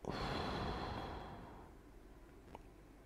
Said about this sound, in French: Une respiration.